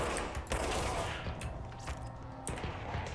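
Video game gunfire crackles in quick bursts of shots at a low, distant level, with a few sharper cracks standing out among mechanical clatter.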